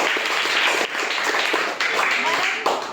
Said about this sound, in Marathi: गौरवसाठी सगळ्यांनी टाळ्या वाजवायच्या